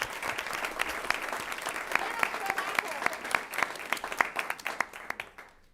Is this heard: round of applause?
yes